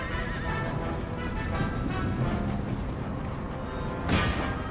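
Horses neigh and their hooves clip-clop amid a battle in the Empire: Total War video game, a steady mass of hoofbeats and whinnies with a sharper neigh near the end.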